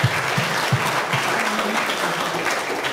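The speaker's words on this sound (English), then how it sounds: "A big round of applause for Rajiv Makni who's in the house tonight." A crowd at a Bangalore blogger meet claps for a guest, dense and even applause from a roomful of people that holds steady and close throughout.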